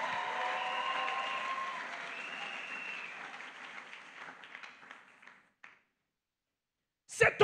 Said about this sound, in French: est-ce que tu peux acclamer très fort le roi de gloire?